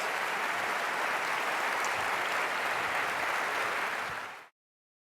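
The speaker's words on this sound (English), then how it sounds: "please, another round of applause for our moderator and our panelists" Audience at a Stanford reunion forum on inequality and equal opportunity applauds a moderator and panelists, a dense, steady clapping that holds at moderate level and then cuts off abruptly.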